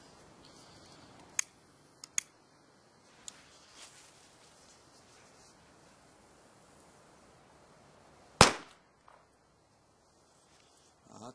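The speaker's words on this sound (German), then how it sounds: "Ah, ziemlich dumpfer Knall, aber nicht so laut." A Lesli China firecracker goes off with a single dull, fairly loud bang partway through, after a few faint clicks and rustles against a quiet outdoor background.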